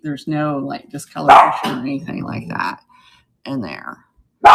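A household dog barks a few times in short bursts, loud and close indoors, mixed in with someone talking over it.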